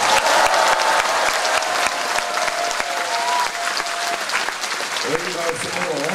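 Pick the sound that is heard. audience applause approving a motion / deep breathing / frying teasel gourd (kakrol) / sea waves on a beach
audience applause approving a motion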